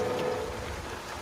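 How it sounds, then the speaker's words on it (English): Rain in a dark horror movie scene, a dense, steady wash of falling rain with low rumbling underneath, continuous and fairly loud throughout the brief moment. "And it's raining"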